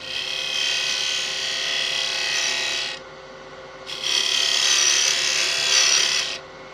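A lathe tool cuts into spinning wood while a small turned box for rosary beads is hollowed, giving two close, steady scraping passes separated by a brief quieter gap.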